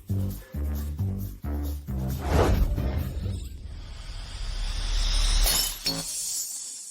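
Glass breaks with sharp, bright crashes and scattered tinkling shards, several impacts in succession over a few seconds, close and loud.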